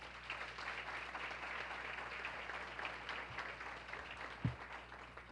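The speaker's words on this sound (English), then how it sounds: "by giving them a round of applause." Conference audience applauding at a neighborhood best practices gathering, a steady wash of many hands clapping at a distance, fairly faint and even throughout, with one brief louder knock near the end.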